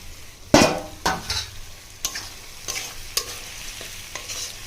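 Chopped tomatoes cook down with ginger-garlic and spices for a chicken curry: a low background sizzle broken by several sharp spoon-against-pan stirring strokes at uneven intervals, no voices.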